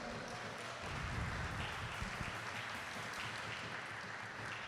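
Quiet congregational clapping for the Lord during a church service, a soft, somewhat distant patter of many hands over low rumbling room sound, with a few sharper claps standing out.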